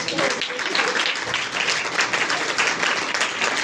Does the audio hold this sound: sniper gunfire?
no